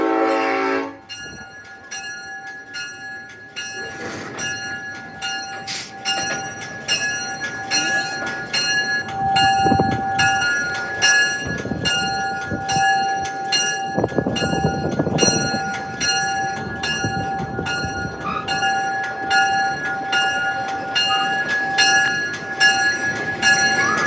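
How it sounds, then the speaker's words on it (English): A train passes at a railway museum with a steady crossing-bell dinging throughout and sustained horn tones, rumbling rail cars and clanking growing louder mid-way, heard nearby without talking. "There's a train."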